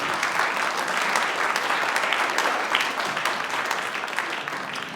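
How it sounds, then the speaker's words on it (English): Applause from a concert audience at a brass band evening, a steady, full wash of many hands that fades slightly toward the end. "give him a round of applause"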